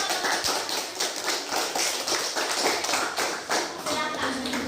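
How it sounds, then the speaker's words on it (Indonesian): A group claps hands together in a classroom setting, a dense run of mostly unsynchronized claps, lively and close, with voices faintly underneath. "Tepuk tangan."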